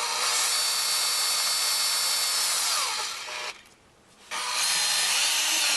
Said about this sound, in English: cut it off so I can just run it in my drill.